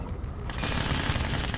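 Continuous battlefield gunfire from a base under attack in Red Alert 2: Yuri's Revenge, a dense, loud rattle of rapid shots and booms that builds after a brief quieter start and carries on without pause.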